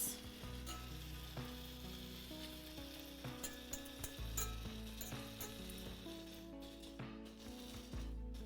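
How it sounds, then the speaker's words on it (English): Okonomiyaki, a Japanese savoury pancake, sizzling steadily as it fries, with a continuous close crackle and occasional scraping or stirring clicks over a low background hum. "You guys hear those sizzles though?"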